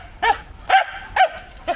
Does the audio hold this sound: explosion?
no